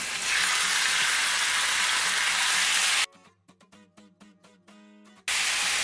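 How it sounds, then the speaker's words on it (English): Beef strikes a hot cast iron skillet slicked with olive oil and sears with a loud, dense, continuous sizzle that drops out for about two seconds mid-clip, then resumes at full strength. "Once we got it hot, we're going to go ahead and drop our meat in."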